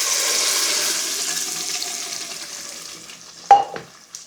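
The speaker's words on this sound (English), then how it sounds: "So they're starting to sizzle away and I can just smell the aromatic coming through." Paneer curry sauce sizzles and fries in a pan, a loud steady hiss that slowly fades, then a sharp spatter and a few brief bursts near the end, with no talking.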